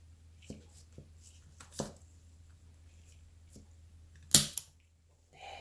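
Snips of a blade cutting the growing tip from a Cotyledon orbiculata 'Boegoeberg' succulent stem, a few soft close clicks and rustles capped by one crisp louder cut near the end, with no voices.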